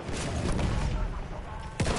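Gunfire and explosions crackle in a Battlefield 1 battle, dense overlapping shots under a constant rumble of combat, with a louder booming blast near the end.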